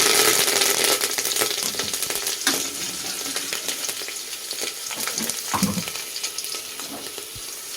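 Steady, close sizzling of curry leaves frying in hot oil in a pan, continuous crackle throughout with a few brief metallic clinks and stirring scrapes.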